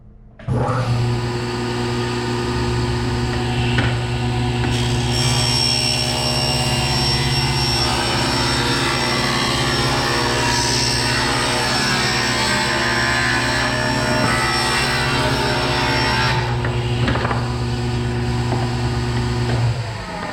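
A table saw roars steadily for about twenty seconds as it cuts through plywood, loud and close, with a slight change in pitch partway through the cut.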